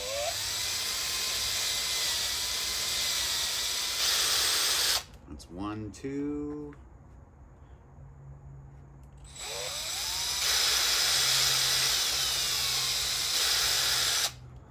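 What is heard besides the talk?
drill drilling holes in metal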